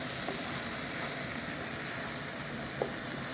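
A chicken and vegetable stir fry sizzles steadily in a pan, a close, even hiss with only a couple of faint knocks from stirring and no voices.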